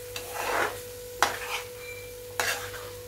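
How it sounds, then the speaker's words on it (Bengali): Taro stems frying in a pan are stirred with a spatula, three quiet scraping strokes over a faint sizzle and a steady background hum. "দিয়ে ভালো করে নাড়াচাড়া করে নিচ্ছি"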